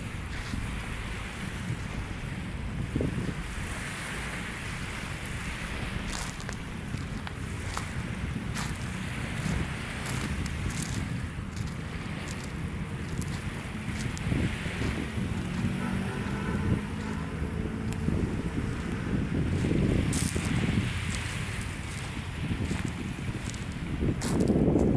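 Seaside along Manila Bay with steady wind buffeting the microphone and a broad wash of surf-like noise, continuous and moderately loud throughout, no talking.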